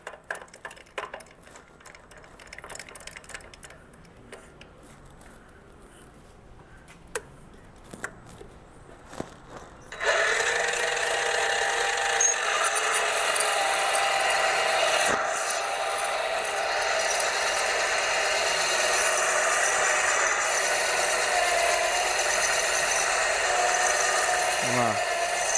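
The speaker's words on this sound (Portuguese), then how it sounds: "Fazendo logo com a brocona bruta para vocês verem." A mini lathe drills a center pilot hole with a roughly 8 mm bit, a steady loud broadband whir and grinding that starts abruptly partway through after quieter clicks and handling noises, then runs continuously to the end.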